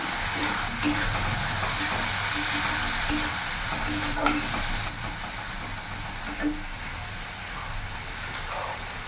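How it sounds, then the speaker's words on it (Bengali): Chopped tomato is stirred into frying masala for a rohu fish curry with soybean chunks. A steady sizzle runs throughout, broken by scraping stirs of the spoon in the pan, with no talking. "একটা টমেটো কুচি দিলাম, ভালো করে মিশিয়ে নেব।"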